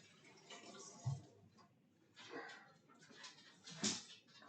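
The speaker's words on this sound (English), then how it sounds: "Happy dogs." Several dogs give short whimpers and small yips at close range in a kitchen while food is being prepared, a few brief bursts over quiet background.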